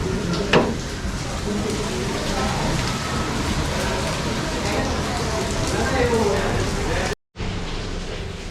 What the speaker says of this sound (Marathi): बाहेर बघा किती पाऊस पडतो